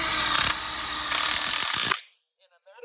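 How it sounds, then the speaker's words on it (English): A power drill drives a self-tapping screw into a metal outdoor kitchen frame tube, a close, loud whirring burst of about two seconds with rising strain before it cuts off abruptly, followed by near silence. "Use the self-tapping screw."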